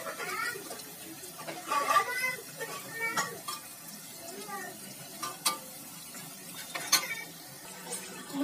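Qeema spring rolls fry in oil over a very low flame, giving a soft, steady sizzle broken by occasional utensil stirs and light clinks, with a faint murmur in the background.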